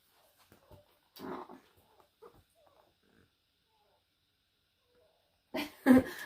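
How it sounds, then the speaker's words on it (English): A dog whining outside in short, faint bursts with long quiet gaps between, the last cries louder and closer near the end. "Our little doggie's outside crying."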